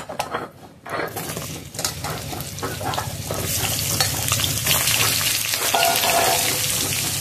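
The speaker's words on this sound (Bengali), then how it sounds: "এবার ভেজে নেব পটলগুলোও ভালোভাবে ভেজে নেব" Pointed gourd (potol) frying in mustard oil hisses and crackles loudly and steadily, building as the pieces settle into the hot pan, with stirring clatter early on.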